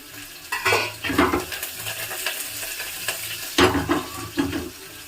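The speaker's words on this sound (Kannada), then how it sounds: "ಇವಾಗ ಈರುಳ್ಳಿ ಹಾಕೊಳ್ತಾ ಇದ್ದೀನಿ" Onions go into a hot pan with pot and utensil clatter, stirring and a soft sizzle of frying, in two busier bursts of scraping and clinking separated by quieter frying.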